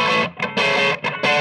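A 2019 Fender Rarities flame maple top chambered Telecaster played through distortion on its bridge pickup gives loud, thick, sustained chords with short choppy breaks between strums.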